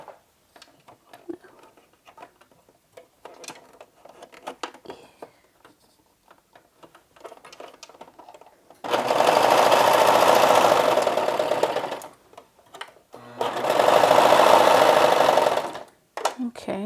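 An electric sewing machine running in two loud, steady bursts of rapid mechanical whirring, each lasting a few seconds, between quieter ticking and handling sounds.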